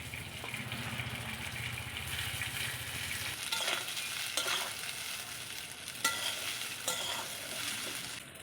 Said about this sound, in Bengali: এবার পাস্তাটা আমি ছেড়ে দেবো।